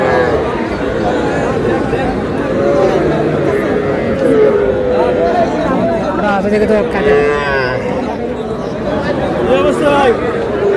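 Young bull calves low at Ambari cattle market amid a dense crowd hubbub, with nearby voices bargaining throughout and moos rising intermittently above the chatter.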